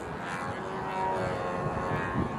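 Small E-flite Pogo RC airplane engine in flight, a steady buzzing drone that holds loud and continuous throughout, with a slight swell partway through and no talk.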